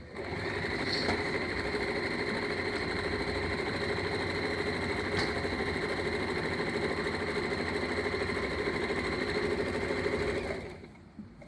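Sewing machine stitching fabric, a close steady whirring drone with rapid needle chatter running without pause for about ten seconds before stopping.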